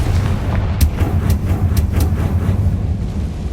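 A Confringo fire spell is cast in Hogwarts Legacy, giving a loud, close series of sharp blasting cracks over a heavy, continuous low rumble, with no voices.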